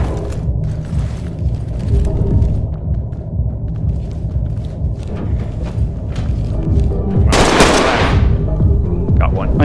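Gunfire in the tactical shooter Ready or Not, loud bursts of shots and rattling fire in a tense multiplayer round, ending in a sharp, blasting burst near the close, with players talking underneath.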